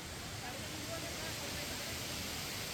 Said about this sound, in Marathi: ह्या बाजूला इकडे खाली धबधबा आहे